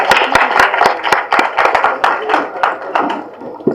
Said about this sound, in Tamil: நல்லா கைத்தட்டுங்க.